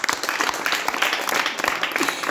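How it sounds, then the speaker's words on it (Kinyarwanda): An audience at a church gathering applauds in a dense, steady patter of many hands, moderately loud and continuous across the short stretch, with faint voices mixed in. "Reka tugukomere amashyi nawe."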